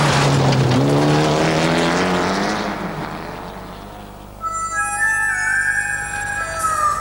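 A four-wheel drive car is driven hard along a forest road, its engine loud and rising through the gears before fading, then tyres or whining tones take over near the end.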